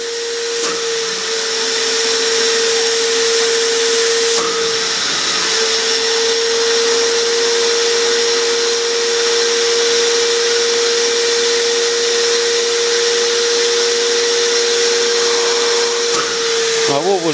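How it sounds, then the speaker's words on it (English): A household hoover vacuum cleaner runs steadily while sucking through a car's DPF exhaust pipe, its loud continuous whine holding a fixed tone throughout, with brief dips and pitch shifts as the seal changes near the start, middle and end. "Well, judging by the tone of the hoover, I'm making a seal."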